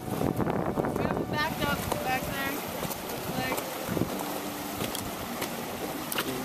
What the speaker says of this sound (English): Harsh winds gust by, threatening to topple each and every one of us.